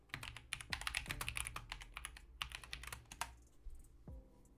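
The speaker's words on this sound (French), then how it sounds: "Horrible de taper ça, Ponce Twitch." Rapid clattering keystrokes on a computer keyboard, close and fairly quiet, in fast bursts with a brief pause before a final key tap.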